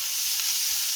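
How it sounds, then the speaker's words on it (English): Vegetables fry in hot oil for a creamy vegetable pasta sauce, giving a close, steady sizzling hiss that runs unbroken and alone. "Just frying the vegetables"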